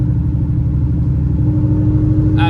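A Ford Shelby GT500 cruises with its engine running and a 6R80 transmission fitted, giving a loud, steady low rumble heard from inside the car, with a brief clatter at the end and no talking.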